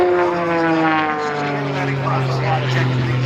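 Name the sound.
RC airplane engine at air show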